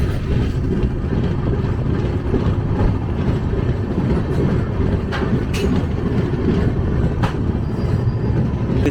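The Howrah-Dehradun Kumbha Express runs on its rails near Moradabad with a loud, continuous rumble and roar of wheels and carriages. A few sharper rattles and clacks stand out above the steady drone, and no one speaks.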